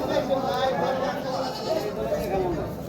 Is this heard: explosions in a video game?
no